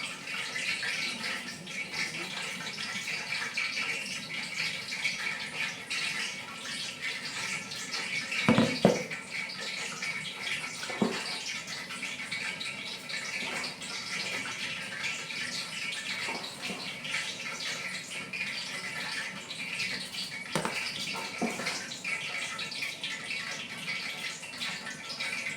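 Water pours steadily into a washing machine tub as it fills, a continuous rushing wash broken by a few brief knocks and clunks, with no talking.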